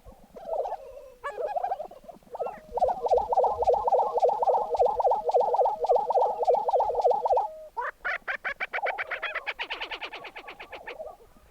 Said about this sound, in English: The lesser prairie chicken,